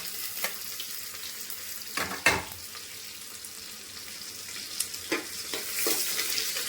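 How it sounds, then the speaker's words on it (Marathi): Chopped onion hits very hot oil and sizzles steadily, with stirring scrapes and a louder splattering burst about a third of the way through, then softer crackles. "तेल खूपच जास्त गरम झालेलं आहे आपण त्याला कांदा टाकते"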